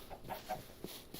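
Chicken clucking in Minecraft, a few short, soft clucks in quick succession at low volume with no one speaking.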